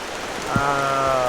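Heavy, lashing rain falls steadily throughout a downhill bicycle ride through the Khasi Hills near Cherrapunji, Meghalaya, with a faint steady tonal whine running beneath the hiss of the downpour.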